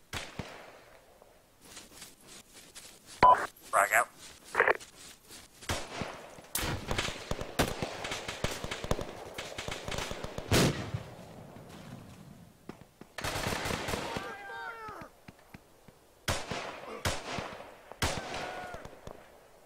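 Sustained gunfire and explosions in the military video game Arma: rapid automatic bursts, single shots and heavier blasts, loud and close, with several pauses over about twenty seconds.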